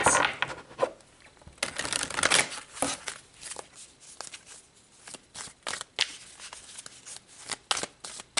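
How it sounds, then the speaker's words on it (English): Tarot cards being shuffled and drawn from the deck, a run of crisp riffling and flicking bursts with papery snaps, close and fairly quiet, with no talking. "So let's pull a couple of cards to get clarity on that."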